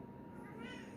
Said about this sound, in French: Ce que j'aime bien, c'est comme elle miaule.